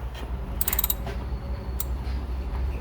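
Ratchet tightening bolts during an oil change on a 2015 Toyota Corolla, giving a couple of short, close bursts of rapid clicking over a low background hum.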